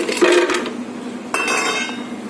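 Half a cup of ice cubes clinks and rattles into a measuring cup in two short bursts, close and fairly loud, with no talking.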